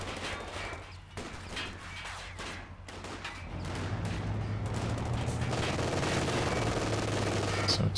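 Automatic rifle fire from a BAR in a Company of Heroes 2 match, rapid bursts of gunfire crackling through a dense, continuous battle din with other weapons and engine rumble, steady and fairly loud throughout.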